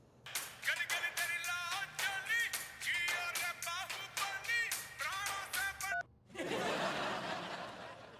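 Phone call being dialed, a rapid series of short electronic tones and beeps for several seconds, followed by a softer hissing line tone.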